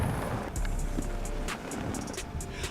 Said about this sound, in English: The Captiva, without stopping, continues to drive to the second part of the obstacle.